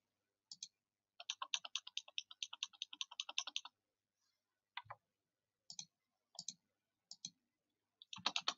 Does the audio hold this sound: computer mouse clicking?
yes